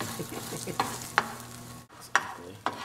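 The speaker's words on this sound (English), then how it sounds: "So as you start to cook your eggs and scramble them" Eggs being scrambled in a frying pan: a soft, low sizzle broken by several sharp spatula scrapes and taps against the pan, close and fairly quiet.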